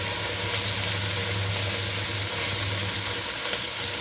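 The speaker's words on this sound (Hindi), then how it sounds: "कीमा भी फ्राई हो चुका है तकरीबन।" Minced meat fries with onion and garlic in a pan, giving a steady, close, even sizzle with a faint low hum underneath, unbroken for several seconds and with no talking.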